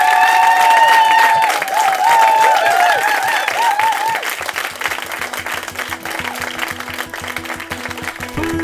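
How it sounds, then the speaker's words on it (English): Audience applause at a live podcast recording at the Latitude 2019 festival, a dense, loud wash of clapping and crowd noise that holds steady, with music and tonal sounds running over it before a rhythmic beat comes in. "a huge round of applause and a massive thank you to our two fabulous guests"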